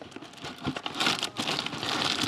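A single plastic bag holding the sprues of a KP 1/72 PC-7 model kit crinkles and crumples during an unboxing. The rustling is close and irregular, and it grows denser and louder toward the end.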